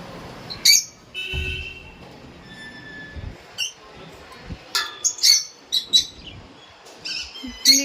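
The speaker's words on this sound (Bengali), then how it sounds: "কিচিরমিচির শুরু হয়ে গেছে।" Birds chirp outdoors under a cloudy, pre-rain sky, with scattered sharp tweets and short calls rising from a quiet background, a few brief clusters near the middle and end, fairly close.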